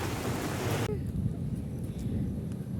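Heavy rain hisses steadily outdoors on the UP Diliman campus in Quezon City. A loud broadband wash drops to a softer, steady patter after a second, with low rumbling underneath.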